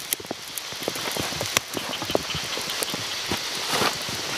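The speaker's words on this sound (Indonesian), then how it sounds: "Juga kondisinya hujan besar, hujan gerimis, lihat." Heavy rain falls outdoors near a lake, a steady broadband hiss with scattered sharp drips and patters striking nearby surfaces throughout, with no talking.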